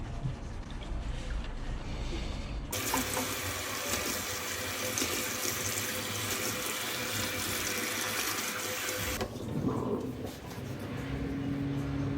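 Steady tap water runs loudly into a sink at a barber shop while a man's face is washed, a constant gushing hiss that swells stronger midway and then softens slightly.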